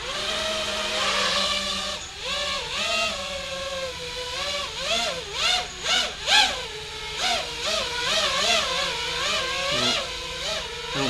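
Drone motors spin up outdoors in light rain, a loud continuous whine that rises and falls in pitch as the throttle is pushed and eased, with rapid revving swells and no talk over it.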